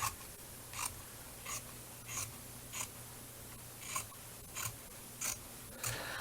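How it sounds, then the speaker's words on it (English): Paper-cutting scissors chomp through paper in about nine crisp, evenly spaced snips, quiet and close against a faint background hum. "these are my paper cutting scissors, so they're chomping a little bit here"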